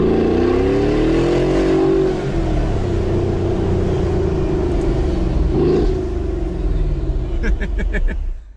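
A Brabus G700 6x6 six-wheeled off-roader driving and accelerating, its engine rumbling loud and steady throughout, with a brief rev swell midway and a speaking voice over the top.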